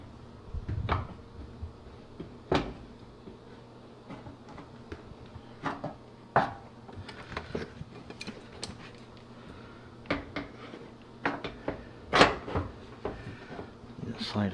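A GE dryer front door panel is handled and fitted, producing a series of sharp knocks, clicks and thumps at irregular intervals, with a voice talking between them.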